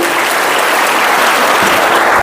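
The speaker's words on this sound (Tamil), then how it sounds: "இந்த ஆசிரியருக்கும் இங்க இருக்கிற அத்தனை ஆசிரியர்களுக்கும் ஒரு நல்ல கைதட்டு" A school audience claps loudly for the teachers, a dense, steady round of applause from a large crowd that carries on without pause and then stops abruptly.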